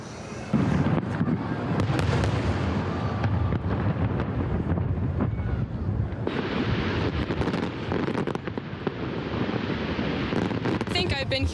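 Fireworks burst over the Detroit River at a downtown show of more than 10,000 fireworks, a dense, continuous roar of booms and crackles with a crowd and wind noise, loud and sustained throughout.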